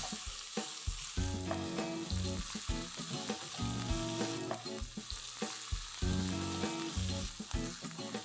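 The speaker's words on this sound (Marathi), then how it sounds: "कांदा आपल्याला एकदम लाल करायचा नाहीये, तर थोडासा ट्रान्सपरंट होईपर्यंत फ्राय करायचा आहे." Onion frying in a pan until it turns transparent while cooking takatla pithla, giving a steady, continuous sizzle throughout with background music playing over it.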